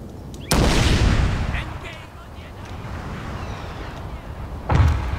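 Massed volleys of musket fire from a Shogun 2: Total War land battle, two heavy crackling bursts with a rolling rumble in between, loud and close, with someone talking over them.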